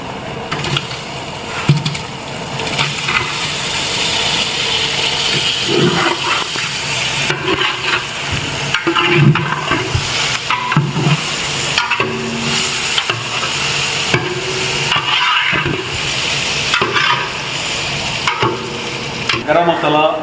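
Chicken pieces stirred into a large 10 kg biryani pot, a steady busy sizzle with scraping, clattering ladle strokes throughout, close and fairly loud, with no talk over it.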